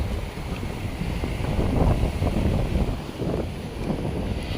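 Rough sea waves surge against a rocky shore where crabs are being caught, a continuous low roar with wind buffeting the microphone and swells rising and falling throughout.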